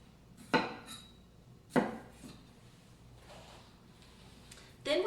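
A knife slicing a beef chuck roast into 2-inch sections on a board, three sharp separate cuts with knocks against the board, spaced a second or more apart, with quiet gaps between.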